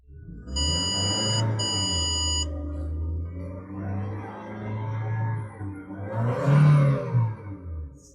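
A 2021 Toyota Hiace Super GL van's engine idles with a low, steady hum after a short run of electronic chimes, then swells briefly as the throttle is blipped before settling back.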